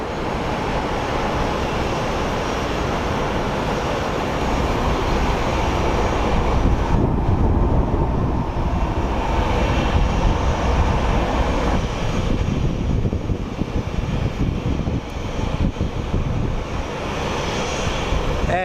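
ABX aircraft at a desert airport departing for Lakeland, a broad roaring engine wash that swells midway and holds loud and steady, with wind buffeting the microphone.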